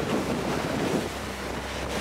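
Strong wind at sea of about 20 knots gusting to 24, with seas of 6 to 8 feet, rushing steadily across a boat's microphone, with broad buffeting noise and water wash throughout and no talking.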